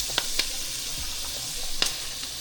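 Shrimp sizzle in a pan on the stove, a steady close frying hiss with a few sharp crackles and pops scattered through it, no talking over it.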